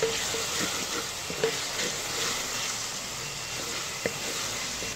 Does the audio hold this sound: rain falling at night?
no